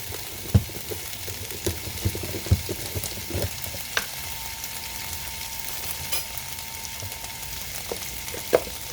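Snap peas and garlic frying in a pan with ginger, a soft steady sizzle under scattered clicks and taps of stirring, fairly quiet and close with no voices.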